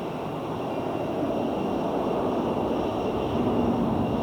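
Airliner landing at Phoenix with engines in reverse thrust, a loud continuous broadband roar with a steady high whine above it, holding level throughout with no talk.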